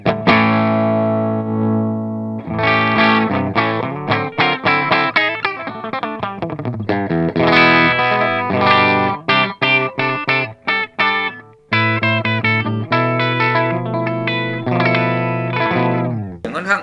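Electric guitar played through a Line 6 POD HD500X modelling a 1965 Marshall JTM45 amp, with smooth, warm, lightly driven chords and picked notes ringing out loud and continuous, broken by brief pauses, with no one talking.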